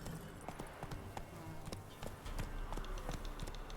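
Steady clip-clop of the horse Roach's hooves in The Witcher 3, a rhythmic trot of evenly spaced hoof strikes under faint game ambience.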